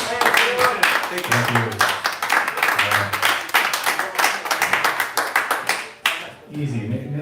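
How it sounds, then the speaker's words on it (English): A small crowd at an open mic night in a bar claps for the next performer, a loose patter of hands running several seconds with a voice talking over it and tonal sound near the end. "Let's have a big round of applause for our next artist"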